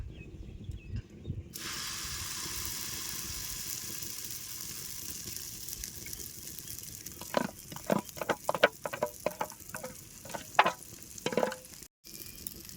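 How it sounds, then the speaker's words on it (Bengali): Beaten egg mixture poured onto a hot mustard-oiled tawa bursts into a loud, close sizzle that holds steady, followed by a run of sharp spatula scrapes and taps. "তাওয়াটা ভালো মতনই গরম হয়ে গেছে আর তেলটা চারিদিকে ছড়াই দিছি এবারে ডিমের মিশ্রণটা তার উপরে দিয়ে দেবো"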